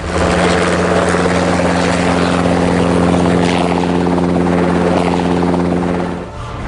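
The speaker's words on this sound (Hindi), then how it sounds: "हेलीकॉप्टर की तेज गर्जना मरुधरा के मौन को चीर रही है।" Military helicopters fly over desert with a loud, steady rotor roar and engine drone that stays close and constant, then dips slightly near the end.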